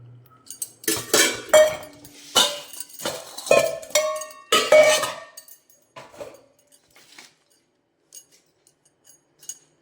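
Atta and maida flour being mixed by hand in a steel basin, with clanking metallic knocks and scrapes in uneven bursts, loud at first and thinning to faint taps.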